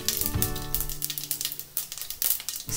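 Mustard seeds, cumin and chana dal crackle and sizzle in hot oil for a tomato curry, a close, steady fry dotted with sharp popping ticks and no talk.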